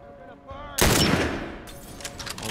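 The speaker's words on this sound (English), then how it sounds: "I shot him." A single loud gunshot in The Last of Us cracks out near the start and decays into a noisy tail, preceded by a faint tonal game sound and followed by scattered clatter.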